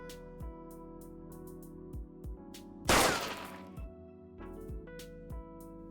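A single loud burst of video-game gunfire near the three-second mark, a dense crack with a short decaying tail, set against steady musical tones and a few soft low thumps.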